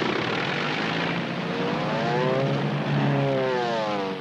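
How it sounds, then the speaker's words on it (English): An aerobatic propeller plane holds a spin at a contest, its engine a loud continuous drone with a wavering, sweeping pitch as it rotates, swelling slightly toward the end. "Brad, how long can he hold that spin? He's got to come out of it now"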